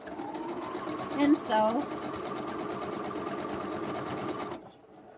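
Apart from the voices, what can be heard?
sewing machine stitching fabric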